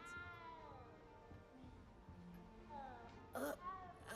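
A small frightened cat meows in the Hogwarts Legacy video game, soft quiet tones over background music, then a sharper, louder cry near the end.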